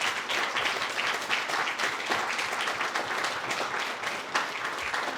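An audience claps for several seconds in a steady, dense round of applause that neither swells nor fades.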